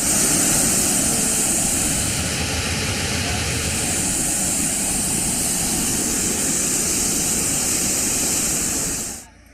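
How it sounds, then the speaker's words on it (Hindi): An overflowing waterfall in Bundi roars with floodwater after torrential monsoon rain, a loud, dense, unbroken rush that holds steady throughout before cutting off abruptly at the end. "वाटरफॉल में बाढ़ आ गई है"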